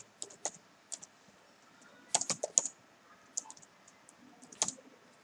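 Code being typed on a computer keyboard, with quick bursts of close key clicks and clacks in irregular rhythm, separated by short pauses, with no talk.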